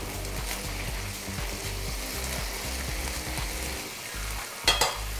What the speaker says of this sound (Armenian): Մեր միսը արդեն կրետ է պատրաստվում, հիմա ավելացնում եմ չիլի, չիլի ֆլեյքս կամ կարմիր բղբեղի փաթիլները։